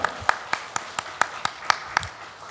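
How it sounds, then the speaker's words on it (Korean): Sparse, evenly spaced claps ring out one at a time at a church worship service, about four per second, with a few faint softer claps mixed in and no speech. "우리 박수로 축복하겠습니다"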